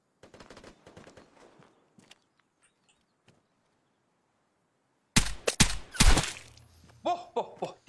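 Bursts of gunfire from a VSS rifle in a video game ring out loud and close in rapid clusters during the second half, after an earlier stretch of quieter in-game activity.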